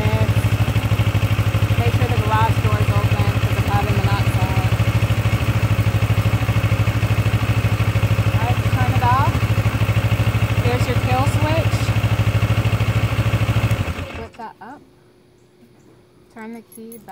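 A Kawasaki 650 motorcycle engine idles steadily in neutral after starting, a loud, even low rumble with light clatter that runs unbroken for about fourteen seconds, then cuts off abruptly to near quiet.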